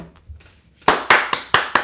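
A quiet moment, then five sharp, loud hand claps in a steady rhythm, close by.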